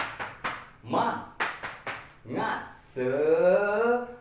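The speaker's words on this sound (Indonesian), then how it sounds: "kita coba ya Bu ya untuk tepuk semangatnya di hitungan ketiga." A group of women performs a rhythmic spirit clap in a training session: several sharp, quick clap bursts in a counted pattern, followed by voices shouting together in a loud, drawn-out chant.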